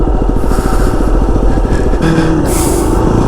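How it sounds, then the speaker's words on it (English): A Yamaha WR250R dual sport motorcycle engine-brakes down a steep dirt slope, its single-cylinder engine burbling in rapid, loud, close pulses that shift pitch as the revs change. "Do some engine braking."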